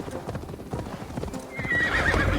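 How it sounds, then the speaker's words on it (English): Hooves clop in a steady walking rhythm from a laden donkey in the Assassin's Creed Valhalla video game, moderately close, with a rising whinny and ambient game noise toward the end. "Look at the donkey."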